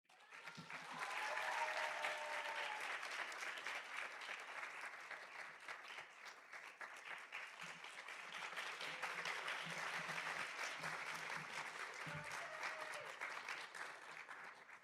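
An audience at a Bharatanatyam arangetram welcomes a speaker with sustained, full applause that swells and continues evenly for about fifteen seconds, heard from a distance in the hall.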